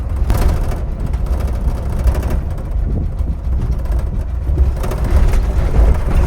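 An old car with freshly repaired pushrods drives over a rough trail, giving a steady low rumble of engine and road noise with wind buffeting the microphone and no talk.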